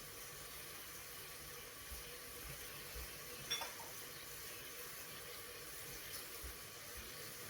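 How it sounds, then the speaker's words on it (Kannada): Curry leaves dropped into hot oil give a faint, steady sizzle and hiss, with one brief clink partway through and no voices. "ಮತ್ತು ಕರಿಬೇವು ಕಟ್ ಮಾಡಿ ಇಟ್ಕೊಂಡಿದ್ವಲ್ಲ, ಅದನ್ನು ಹಾಕ್ತಾಯಿದ್ದೀನಿ"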